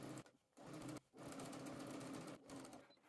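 A sewing machine stitches a fabric seam along a basting line with a steady, fast mechanical whir, pausing briefly twice before running on, close and alone without talk.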